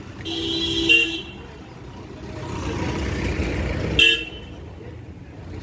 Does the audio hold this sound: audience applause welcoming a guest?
no